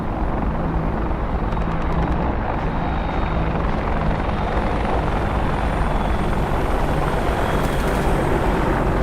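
Apache helicopters from the combat flight game DCS World hold a steady, loud, close rotor and engine roar, a constant dense drone with no pause.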